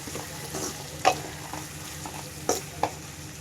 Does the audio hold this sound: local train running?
no